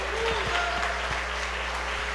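Church congregation applauding during a sermon, a soft, steady wash of clapping heard from a distance over a constant low hum.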